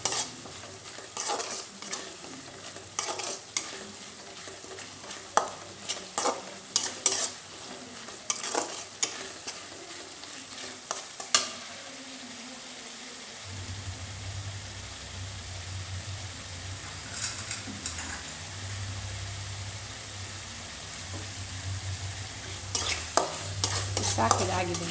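Masala being stirred in a pan after water and coriander leaves go in, a steady scrape and clatter of the spoon over a soft sizzle that grows louder and continuous partway through, close and without talk.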